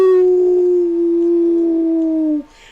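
A single long howl, loud and close, holding a steady pitch that sags slightly before cutting off, followed by a faint breathy tail; it likely comes from a human voice imitating a wolf.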